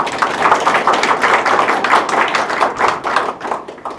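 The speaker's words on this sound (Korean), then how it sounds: "네, 박수 부탁드립니다." A ceremony audience claps for an introduced board member at a university president's inauguration, with dense, close applause of many hands sustained for several seconds before thinning slightly at the end.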